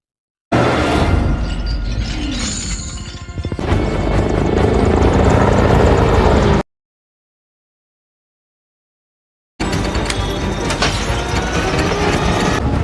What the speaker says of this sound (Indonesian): Brixton membawa Hetty naik ke helikopter tempurnya.